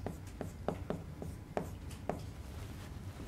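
Math notation is written on a board: a series of short tapping strokes and scratches at an irregular rhythm, close and moderately quiet.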